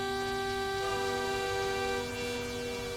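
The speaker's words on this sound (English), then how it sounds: "I can't even tell if I'm blaring my horn because yours is going that loud." Truck air horns blare steadily in the video game American Truck Simulator, a loud continuous multi-tone chord held throughout without pause.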